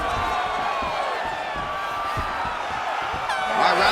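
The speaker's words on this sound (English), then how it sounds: "the crowd loves the stand-up fight" A virtual arena crowd in EA Sports UFC 3 cheers and murmurs during a stand-up exchange between Bruce Lee and Robert Whittaker, a continuous noisy wash that swells slightly at the end, with faint game effects.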